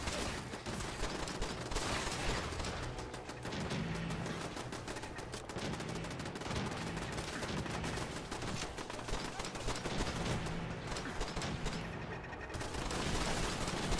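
Rapid, dense gunfire rattles almost continuously through a Fallout 4 firefight, with bursts of automatic shots and impacts layered over each other, loud and busy throughout with only brief lulls.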